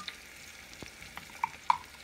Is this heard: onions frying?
yes